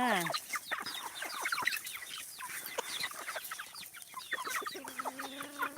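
Chickens cluck busily while being fed ground water hyacinth alongside ducks, a dense flock of overlapping clucks and squawks close by, with a higher drawn-out call near the end.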